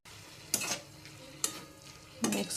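A spoon stirs cluster beans in a frying pan, making three short scraping strokes over a low, quiet sizzle, close by and without speech.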